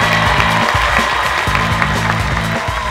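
An audience at an innovation awards competition broadcast applauds in a dense, continuous wash of clapping, loud and close, over a repeating low musical beat.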